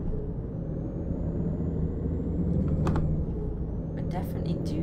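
A DAF XF truck engine in Euro Truck Simulator 2 drones low and steady as it accelerates, a continuous rumble with a few faint clicks and hisses on top.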